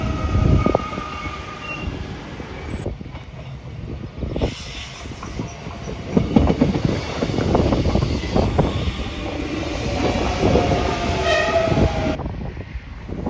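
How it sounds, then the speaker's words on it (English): A train rumbles past close by on the main line at Lamarosa, Portugal, with rhythmic clattering of wheels over rail joints, steady and loud, accompanied by faint tonal squeals. "another train will pass on the main line"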